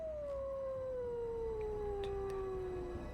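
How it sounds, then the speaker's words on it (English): A wolf howls in the distance, one long sustained tone that slowly drops in pitch over a few seconds against a low steady background hum. "Even the sound of a wolf howling in the distance was enough to fill a heart with terror."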